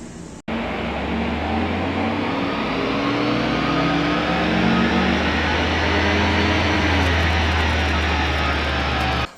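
A car engine revs hard on a power dynamometer fitted with a sport air filter, its strong intake sound rising and holding loud and steady for about nine seconds, with no talking.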